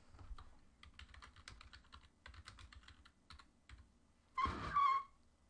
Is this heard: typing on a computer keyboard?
yes